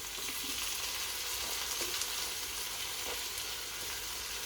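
Chopped tomatoes fry in a pan of hot oil for biryani, giving a steady, dense sizzle with a few faint stirring scrapes and no talk.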